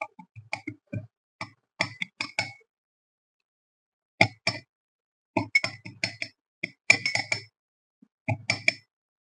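A metal spoon clinks against a cup while coffee is added, making rapid little taps and rattling clusters separated by short silences, close and clear with no talking.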